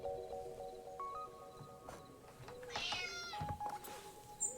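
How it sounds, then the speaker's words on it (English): Cat meowing in a video game set in the Dordogne, several short rising and falling meows of varying pitch, fairly quiet against soft ambient game sound, no voices. "I'd better check. It's the cat!"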